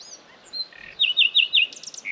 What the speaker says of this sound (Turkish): Bakın ufacık da bir kuş ha. Şu dalın üzerinde minnacık.